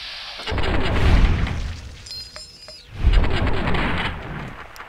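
Gunshots fired at scorpions in the game Fallout New Vegas, two heavy booming blasts about two seconds apart, loud and close, each trailing off into a rumbling decay.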